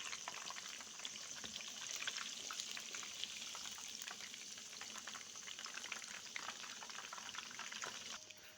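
Chicken pakora frying in hot oil, a dense, steady crackle and hiss that holds evenly from start to finish with no voices over it.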